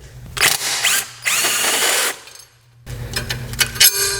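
A power tool drives out the 10mm and 14mm bolts of a pulley-cover bracket on a 2012 Subaru Forester, several short loud whirring bursts with brief pauses between, close up and alone.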